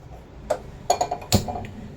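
A cooking pan handled in a home kitchen while preparing tempering for a pumpkin-ginger chutney: a few sharp metallic clinks and a clatter, the loudest near the end, over a quiet room.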